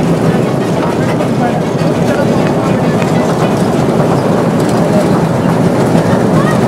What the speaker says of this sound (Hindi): यहाँ से हम लोगों ने ली है टॉय ट्रेन